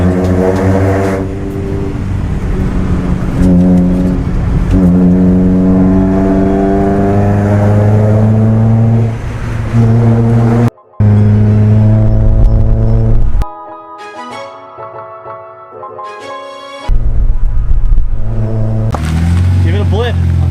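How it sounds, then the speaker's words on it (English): Loud Honda Prelude engine revving in sharp throttle blips, rising and falling pitch over a steady idle, close by, with a brief cutout and a quieter spell before revs return. "Give it a blip, a throttle blip."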